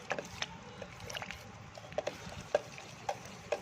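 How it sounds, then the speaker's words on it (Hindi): Kadhi batter of gram flour being stirred well in a bowl to dissolve lumps, a soft scraping swish with light irregular taps of the spoon, quiet and close with no talking. "इसको अच्छी तरह मिक्स करना है, अच्छी तरह हल करना है।"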